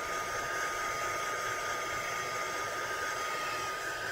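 A craft heat tool blows steadily while drying a page in an art journal, a loud continuous whirring hiss that runs unbroken and close throughout with no speech.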